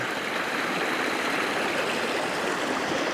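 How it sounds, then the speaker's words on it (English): A small creek, locally called a branch, flows off a hillside beside a bee yard, giving a steady, full broadband rush of running water close by with no pauses. "When I lived on the West Coast, they'd call this a small creek or a brook."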